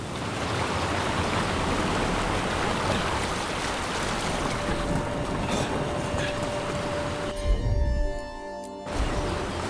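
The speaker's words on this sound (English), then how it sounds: "Look at those waterfalls." Waterfalls in Dragon Age: The Veilguard make a steady, broad rushing roar of falling water that fills the scene. It holds constant, then briefly drops out near the end before resuming.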